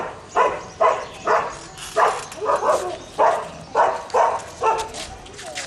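A nine-month-old German shepherd dog barks in a steady series of about ten loud, evenly spaced woofs, close by, with no talk between them.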